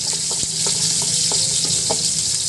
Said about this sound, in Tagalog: magigisa ako ng sibuyas at bawang